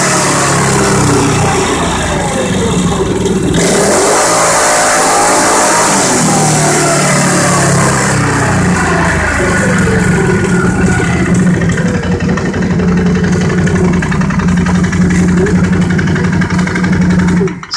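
A 2010 Can-Am 650 engine tested on a dyno for a lean condition roars loud and close at full throttle, revs climbing and falling through the run with a constant mechanical drone.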